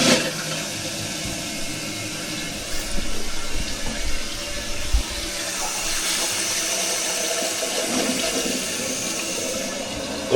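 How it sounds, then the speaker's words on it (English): A newly installed Toto Drake toilet flushes in a loud, sustained rush of water with gurgling swirls that swell midway and continue draining through the end, no talking. "I think it's time we flush this thing."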